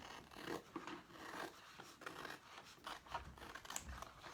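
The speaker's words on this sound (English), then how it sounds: "we're going to go ahead and cut these apart with our scissors" Scissors snip and rasp through thin paper transfers along cutting lines in a series of quiet, close cuts, soft scraping sounds repeating irregularly.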